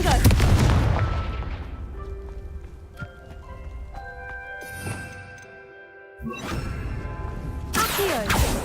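A Confringo blasting curse goes off in Hogwarts Legacy, a loud burst at the start followed by rumbling game effects, another heavy blast near the end amid layered combat sounds and music.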